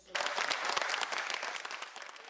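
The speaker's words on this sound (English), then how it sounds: "some people in the crowd clapped" A crowd in a Pittsburgh City Council chamber applauds after a vote on gun legislation, with dense steady clapping that starts abruptly and stays fairly loud throughout.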